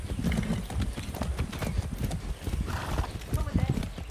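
Hooves clatter in a fast, continuous clip-clop as a horse gallops in the video game Far Cry 6, with a whinny heard along the way.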